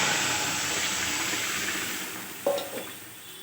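Dal tipped into hot oil with green chilli, black cumin, panch phoron and a bay leaf: a sudden sharp sizzle and splash near the end, briefly rising over a soft steady frying hiss, then fading.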